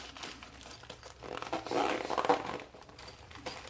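A bugout medical kit bag being zipped shut, a soft scratchy zipper run rising for about a second in the middle, close by and moderately quiet, with faint handling rustle before and after.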